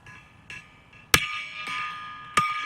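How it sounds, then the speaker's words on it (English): A big mallet strikes a gong several times, each hit giving a sharp metallic impact followed by a shimmering ring, with one strike much louder than the others. "Big hammer, big mallet here."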